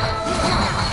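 A loud, close smashing crash rings out in the God of War video game, a dense burst of impact noise with a bright ringing tone that runs the full second without any talk.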